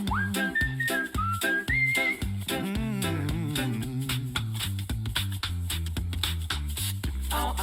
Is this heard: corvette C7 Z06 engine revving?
no